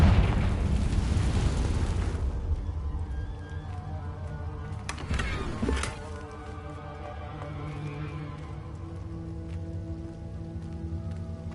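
A Confringo blasting spell in Hogwarts Legacy bursts in a broad rumbling blast at the start, followed by a sharper crack midway over a steady hiss of ambient game noise.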